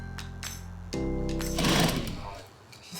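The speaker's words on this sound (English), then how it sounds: "Chinello is sewing the panels together using robust and hard-wearing thread" A sewing machine stitching leather sofa panels together with heavy, hard-wearing thread, a steady close motorised whirr that surges briefly louder, with a voice talking over it.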